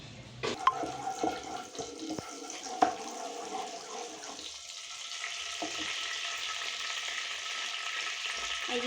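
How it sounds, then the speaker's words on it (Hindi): Cumin tempering sizzling in hot oil for Pakistani daal chawal, with a few sharp clinks early on, then a steadier frying hiss that grows through the rest, no speech. "ज़ीरे का लगाएंगे हम तड़का"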